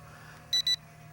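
Two short, high electronic beeps in quick succession from an S156 drone controller over a low steady hum, the rest quiet.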